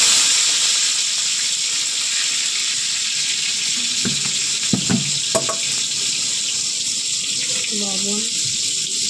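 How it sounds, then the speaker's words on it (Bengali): Chopped tomatoes frying in oil give a loud, constant sizzle that runs throughout, with a few brief clinks and a faint voice partway through. "তেলে টমেটো কুচি দিয়ে দেবো"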